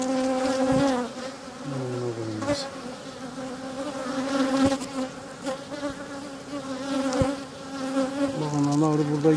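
Honeybees drone in an opened double-deck hive during feeding with foundation comb, a close, continuous buzzing chorus whose pitch wavers as individual bees fly past.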